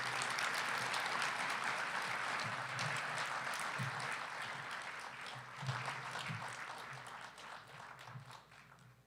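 Gala audience applauds Ben after his personal story about brain disease, a sustained wash of clapping from a moderate crowd that holds steady and then slowly thins out toward the end.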